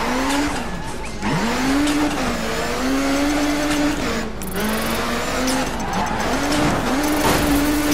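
Rally car in the racing game Dirt 3, its engine droning and rising and falling in pitch as it revs, with tyres squealing through skids, loud and continuous throughout.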